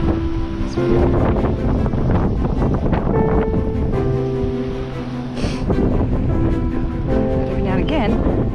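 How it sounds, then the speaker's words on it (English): Strong wind buffeting the microphone on an open mountain plain along the Overland Track in July, a loud continuous roaring rush under a person talking. "But every now and again, the wind nearly knocks me off my feet."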